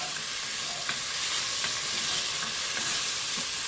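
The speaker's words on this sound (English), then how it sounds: "So now we're going to saute the onion until they get soft." Onions sautéing in a pan, a dense, steady hiss of frying with a few soft stirring taps, close and even throughout, no voices.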